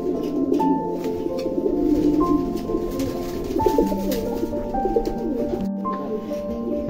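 Fancy pigeons, including a white-eyed black Lakkha breeding pair, coo steadily at a pigeon farm in North 24 Parganas, the low rolling calls overlapping close by with faint chirps in the background.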